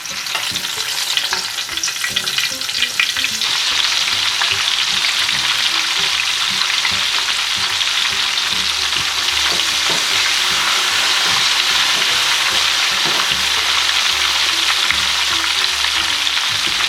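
Masala-marinated cauliflower sizzles steadily in a hot pan, a dense continuous frying hiss with occasional scraping stirs, close and loud throughout.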